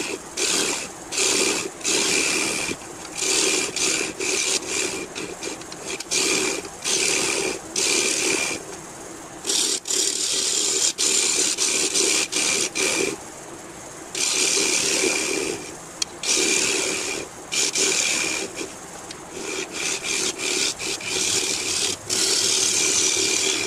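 A lathe cuts the back off an oak bowl in bursts of scraping and chattering tool noise that start and stop repeatedly over a low motor hum.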